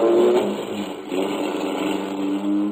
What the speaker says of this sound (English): The car shot out of a side street only moments after I heard it start.